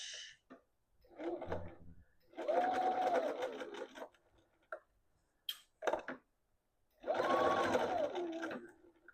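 A sewing machine runs a basting stitch on the ends of a gathered Barbara dress piece, whirring in three short, close bursts separated by quiet pauses, with a few light clicks in between.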